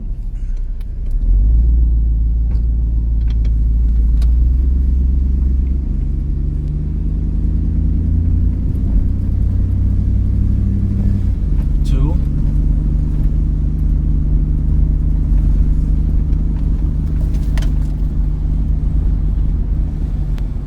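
A car running on a junkyard 4L60E automatic transmission drives in second gear, its engine a loud, steady low rumble from inside the cabin with a brief shift in tone midway and no speech.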